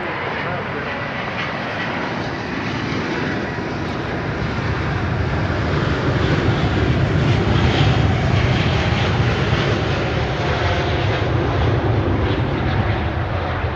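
Boeing 777 airliner arriving at Dallas Fort Worth from Los Angeles, its broad engine rumble and rushing roar swelling steadily near the microphone.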